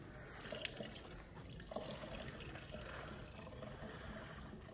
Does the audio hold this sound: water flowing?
yes